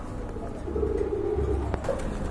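Rajshahi Giribaz pigeons, a pair of green-coloured birds, give a low rolling coo, close and moderately loud over a steady rumbling background, with no talk.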